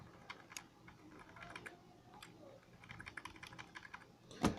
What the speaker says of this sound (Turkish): açılırken ben gene delete tuşuna basıyorum